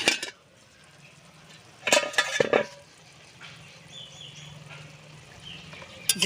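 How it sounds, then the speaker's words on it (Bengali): A metal lid clinks and scrapes as it comes off a pot of simmering kolmi greens, two short clattering bursts in a quiet kitchen, with faint background hum and a last clink at the end. "চাপাটা খুলে নেব।"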